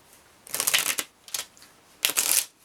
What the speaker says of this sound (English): And the cards shuffle easily too